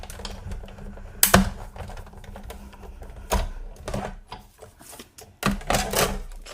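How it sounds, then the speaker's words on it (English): A manual die-cutting machine cranks cutting plates and a framelit die through to punch a porthole in cardstock for an accordion shadowbox card. Uneven clicks and sharp mechanical knocks sound up close over a faint steady hum. "put my cutting plate on here. And let me roll this through."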